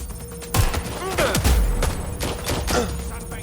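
Gunfire crackles in Watch Dogs Legion, a burst of sharp shots and thuds over a low background rumble, with a falling electronic sweep in the middle and further scattered shots afterward, all fairly close and loud.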